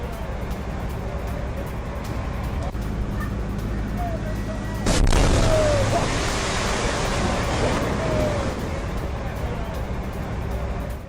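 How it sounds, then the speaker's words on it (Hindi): Large blast as an unexploded rocket detonates while Israeli experts try to defuse it, a sudden loud broadband boom mid-clip over steady outdoor rumble, followed by a lingering roar of debris and noise. "जब इसको डिफ्यूज करने की कोशिश की गई तभी होता है एक बड़ा धमाका।"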